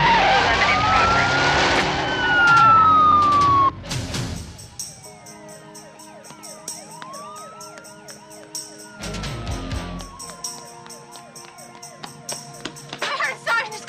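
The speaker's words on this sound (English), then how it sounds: "I heard a siren." A wailing police car siren rises and falls over a tense street scene, sweeping up and down in pitch amid background noise and music-like tones.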